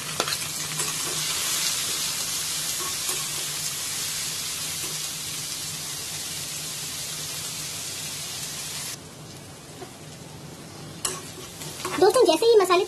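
Chopped onion fries in hot oil with spices, a dense steady sizzle with stirring scrapes that dips briefly, then louder clatter and spatter near the end.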